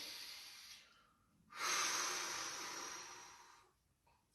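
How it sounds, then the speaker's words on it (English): Deep breaths taken during a morning mobility exercise session: a quiet breath, then a longer, louder exhale lasting about two seconds, all close and alone. "Might want to take a couple of deep breaths."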